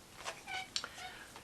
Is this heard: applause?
no